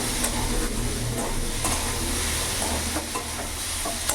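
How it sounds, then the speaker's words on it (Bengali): Fenugreek greens and potatoes are stirred in a pan while they fry, giving a steady close sizzle broken by repeated scraping strokes of the spoon. "এইভাবে নাড়াচাড়া করে কিছুক্ষণ ভেজে নেবো মেথি শাক"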